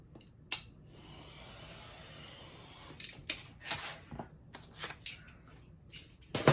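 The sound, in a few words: cutting off excess poster paper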